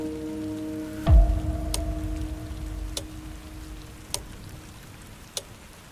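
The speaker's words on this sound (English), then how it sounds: "the sound of rain tapping softly against the windows" Soft rain falls against windows at night, a steady gentle patter with a low thud near the start, a lingering tone and a few sharp taps scattered throughout.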